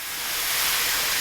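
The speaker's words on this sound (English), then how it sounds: "we're going to add our mushrooms and spice or seasonings that we put in there, and we're going to saute this for 8 to 10 minutes" Mushrooms with seasonings sauté in butter on a Kamado Joe grill, giving off a loud, steady hiss and sizzle that swells slightly and holds, with no voices.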